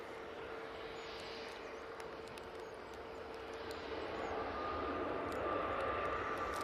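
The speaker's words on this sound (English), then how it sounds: "And this Ryanair is coming in from Paphos, 737 MAX 8." A Ryanair Boeing 737 MAX 8 landing at Manchester Airport, heard as a distant, faint jet roar with a thin whine that slowly builds in loudness as the aircraft approaches.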